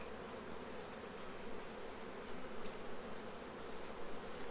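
Honeybees buzzing around a backyard beehive during a spring inspection, a faint continuous hum of many insects with a few passing nearer.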